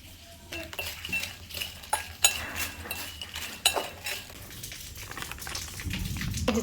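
A spoon stirring and clinking in a bowl while potato chips are mixed with chaat masala, mustard oil, onion and bombay chili, producing scattered light metallic taps and scraping rustles, fairly faint and close.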